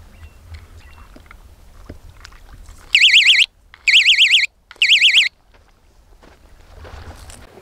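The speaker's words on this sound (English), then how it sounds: "I was hoping to use this fish bite alarm." Fish bite alarm at San Luis Reservoir during late-winter fishing: three loud, warbling electronic beep bursts, each about half a second long, evenly spaced over a faint outdoor background.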